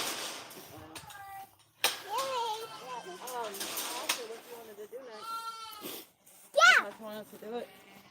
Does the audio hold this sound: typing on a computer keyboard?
no